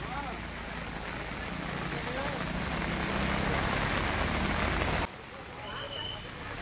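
Heavy rain pours down in Nainital, a dense, steady hiss that holds loud for about five seconds before dropping abruptly to a softer, lighter patter.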